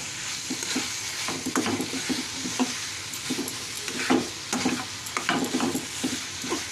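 Food is stirred in an uncovered pan, with repeated scraping strokes of a spoon against the metal in an uneven rhythm over a soft, steady sizzle, close and alone.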